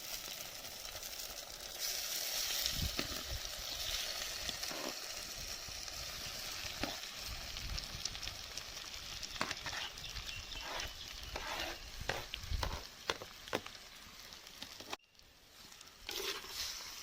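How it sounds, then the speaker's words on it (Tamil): Chopped tomatoes being stirred into sautéed onions in a pan for tomato thokku, with a steady sizzle and repeated scraping and clinking of the spoon against the pan, no talking. "இந்த நேரத்தில் நம்ம கட் பண்ணி வச்சுருந்த தக்காளி எல்லாத்தையும் சேர்த்து நல்லா கலந்து விட்டுக்கலாம்"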